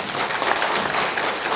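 Audience applause fills a hall in a short, even burst of dense clapping, steady and fairly loud throughout.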